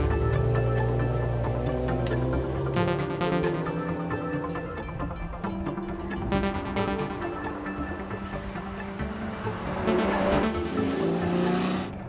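A Ferrari F12 Berlinetta with its 6.3-litre V12 drives off, the engine growling and revving through rising and falling gear changes. It stays loud and close for the whole stretch, with a hint of tyre noise and no talking.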